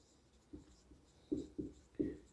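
Short scratchy strokes of writing on a board during a physics lecture on wave optics, four soft, close marks coming in quick irregular succession over a quiet room hum.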